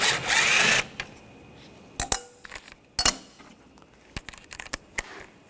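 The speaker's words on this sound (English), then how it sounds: "We're going to use a 7mm socket. Take those screws out." A power drill fitted with a 7mm socket backs out screws on a 2013-2022 Buick Encore, giving one short, loud whir followed by scattered metallic clinks and taps of parts being handled nearby.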